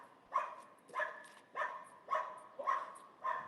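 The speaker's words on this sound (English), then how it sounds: "We have some dogs checking us out." Two dogs bark in a steady series of about six sharp, evenly spaced barks, moderately close and fairly loud, with no talk over them.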